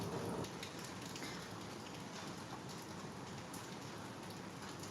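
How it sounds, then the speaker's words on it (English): Rain falls steadily in a city, a dense even patter on surfaces, soft and continuous throughout with no voices. "Now it is raining."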